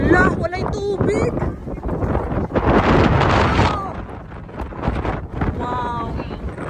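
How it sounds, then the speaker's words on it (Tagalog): Strong wind at a beach roars and buffets the microphone in loud gusts, with people talking and calling out over it throughout. "Ang hangin."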